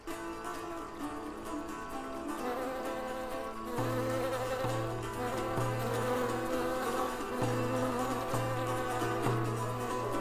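Steady, dense insect buzzing from many bees in flight, a continuous drone that thickens and deepens partway through, with no voices.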